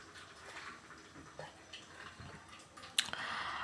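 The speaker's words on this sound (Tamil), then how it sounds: "அந்த வடித்தட்டு வழியாக அப்படியே அருவி மாதிரி தண்ணி கொட்டுது பார்த்தீங்களா?" Water from freshly cooked rice pours out through a draining plate, a continuous splashing trickle with scattered drips and one sharp clatter near the end, close by and moderately loud.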